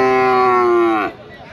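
A cow at Sonamukhi cattle market in Kazipur, Sirajganj gives one loud, sustained low moo lasting about a second, close by, then cuts off into a busy market murmur.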